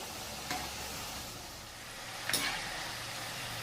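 Jaggery kapanya sweets fry in oil under a constant soft sizzle, while a utensil stirs them with two brief scraping clinks, near the start and again past the midpoint.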